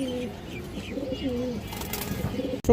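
A male pigeon coos in a series of close, rhythmic low calls, rising and falling several times over a quiet background.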